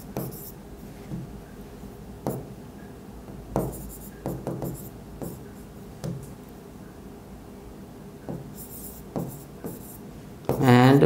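A pen scratches on paper in short, close strokes of scribbling with brief pauses, fairly quiet. A voice speaks in the background near the end.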